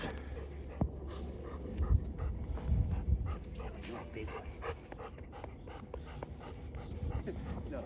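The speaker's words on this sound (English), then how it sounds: "You want to pet the dog in the morning?" Puppies panting and whimpering close by at a job site, breathy bursts and small whines mixed with background talk and outdoor noise.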